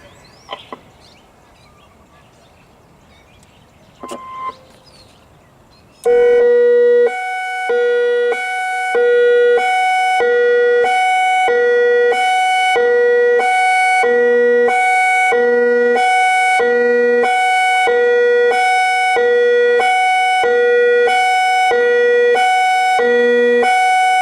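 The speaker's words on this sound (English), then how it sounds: "This is a test of your outdoor warning siren system." Modulator 6024B outdoor warning siren under test at Salt Lake District Park: after a few seconds of quiet background, a loud pulsing two-tone signal starts and keeps repeating in steady, evenly spaced bursts for the rest of the clip.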